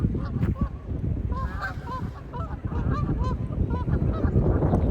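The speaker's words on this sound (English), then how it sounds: "sometimes you just gotta stop and watch the geese land" Geese honk repeatedly as they come in to land, a chorus of overlapping nasal calls of varying pitch over a low rushing background, moderately close and continuous throughout.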